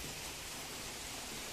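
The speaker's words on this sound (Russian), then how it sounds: "Сейчас я, конечно, не могу передать вам всю эту атмосферу этого бешеного ливня." A heavy downpour in Sochi, a dense, steady roar of rain falling hard and evenly without a break, no voices.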